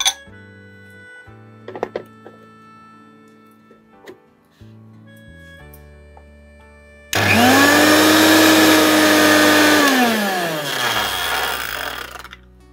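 Electric kitchen mixer-grinder whirring loudly as it grinds ginger and garlic into paste, a steady high-pitched motor roar starting abruptly after quieter moments and winding down at the end.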